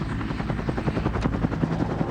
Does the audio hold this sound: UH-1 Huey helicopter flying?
yes